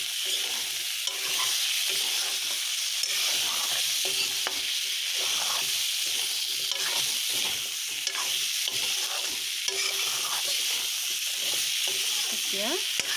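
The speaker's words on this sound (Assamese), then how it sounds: "এতিয়া আমি ইয়াত আলু দিম, কাটি থোৱা আলুখিনি দি দিছোঁ ইয়াতে।" Cut potatoes go into a pan of frying local chicken curry, raising a continuous loud sizzle with repeated scraping stirs and small clatters throughout.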